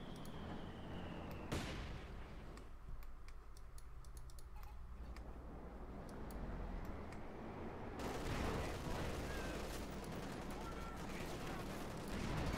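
Sustained battle noise from Company of Heroes 2, a World War II strategy game: a dense, continuous wash of gunfire and distant artillery with sharp cracks, swelling louder and busier toward the end.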